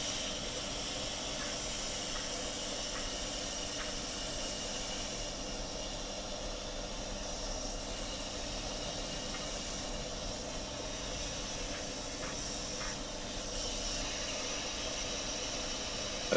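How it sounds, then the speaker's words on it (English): Soft, continuous hiss of a powder coating gun spraying pink powder onto a Dinky Volkswagen Beetle body, steady and fairly quiet throughout with no pauses. "I'm now powder coating the main body with some pink."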